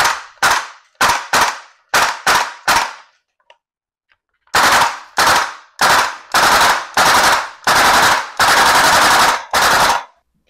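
A VFC AK74M gas blowback airsoft rifle fires loud, sharp cracks, first single and paired shots, then after a pause a run of close rapid bursts ending in a sustained automatic string.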